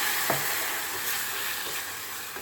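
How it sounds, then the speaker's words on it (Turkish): Tomato paste sautéing in a hot pan, a continuous close sizzle with light stirring scrapes throughout. "Salçamı da kavuruyorum."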